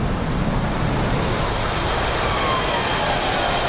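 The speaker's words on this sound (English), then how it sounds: "F-18's now dogfighting." F-18 fighter jets dogfight over a naval battle between a modern US carrier group and a WWII Japanese strike group, a steady loud jet-engine roar holding throughout with no speech.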